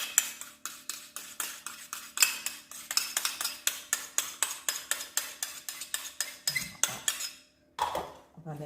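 A utensil stirring a liquid shampoo mixture with glycerine in a bowl, steady rhythmic clinks and scrapes close up, fairly quiet, ending in a brief pause and a last clatter, no voices.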